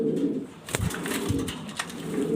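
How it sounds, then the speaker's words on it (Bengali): Jorna shating pigeons coo softly in a steady low murmur, with a few brief clicks and rustles breaking through. "জলনা শাটিং কবুতর এগুলো খুবই সুন্দর"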